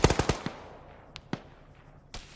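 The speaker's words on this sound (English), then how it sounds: "I hear AK fire off to the right towards the southwest" AK rifle fire during military squad training opens with a sharp, rapid burst of about five cracks, then a few scattered single shots echo sparsely afterward.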